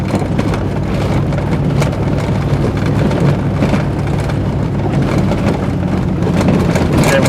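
A vehicle engine idles steadily on a homestead driveway beside a newly installed gate, a continuous low rumble that stays loud and close throughout with no voices.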